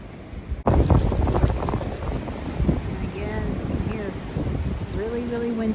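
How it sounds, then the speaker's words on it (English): Strong wind roars and thumps against the microphone on a nature trail, starting suddenly and continuing in gusts, while voices murmur faintly beneath it. "windy today."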